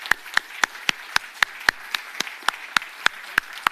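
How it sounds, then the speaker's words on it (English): A single person claps slowly and steadily at a forum, about a dozen evenly spaced sharp claps standing alone against a quiet room. "Please give them a round of applause."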